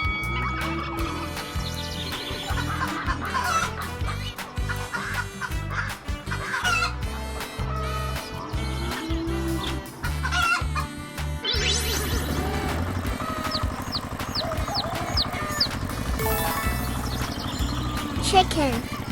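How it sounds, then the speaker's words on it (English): Chickens cluck and a rooster crows on a farm over a bouncy children's music backing track, with the bird calls scattered across the whole stretch and a voice speaking at points. "Chicken."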